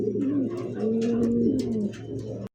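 A single almond-coloured Holland Jacobin pigeon coos in a low, steady, rolling call that lasts about two seconds, close and clear, with no voices over it.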